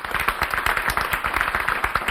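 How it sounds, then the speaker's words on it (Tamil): Hall audience clapping for Haripriya, a school or college student contestant in a Thirukkural speaking competition, a dense, steady patter of many hands at moderate volume throughout. "அரங்கம் நிறைந்த நல்ல ஒரு கைத்தட்டல கொடுக்கணும்"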